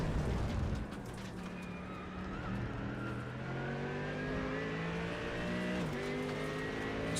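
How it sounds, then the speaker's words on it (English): Race cars in World Challenge competition at Road Atlanta, joined by an LMP2 prototype, roar through a corner complex with several engines overlapping, pitch shifting as they brake, downshift and accelerate away at moderate distance. "Dragota maybe catching Stein going into the 6-7 complex, along with an LMP2 car that's not going to make things any easier"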